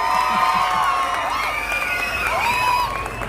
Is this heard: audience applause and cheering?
yes